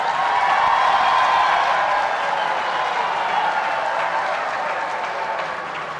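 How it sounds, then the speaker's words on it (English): Sustained applause from an audience at the 44th SADC Heads of State Summit, a dense steady wash of clapping that fills the whole stretch and fades slightly toward the end. "we need another applause"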